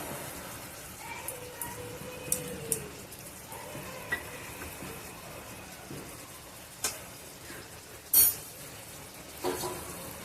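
A vegetarian ridge gourd curry sizzles in a pan after a paste of ground poppy seeds and green chillies goes in. There is a soft, continuous frying hiss, light spoon taps and stirring scrapes, and one sharper clatter toward the end.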